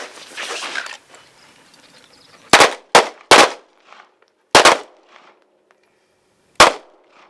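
Pistol shots crack out at an outdoor shooting range, six sharp loud reports in uneven spacing, some in quick pairs, after a brief stretch of faint background noise.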